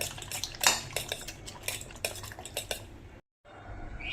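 Beaten egg mixed with chopped onion, coriander and green chilli in a bowl, brisk spoon clinks and scrapes against the bowl in quick irregular strokes, close, with a brief silent cut near the end.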